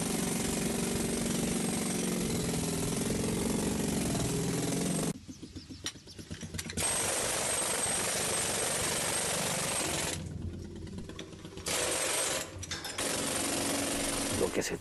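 Demolition breaker hammer pounding hard rock inside a rescue tunnel, a dense continuous roar of rapid impacts close by, cutting out briefly twice before resuming loudly.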